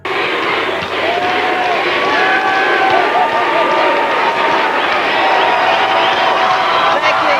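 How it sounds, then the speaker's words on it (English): MTV Music Awards crowd roars with sustained cheering and shouting, a dense, loud wall of voices with scattered whoops throughout. "the audience was so wild about him, cheering and chanting"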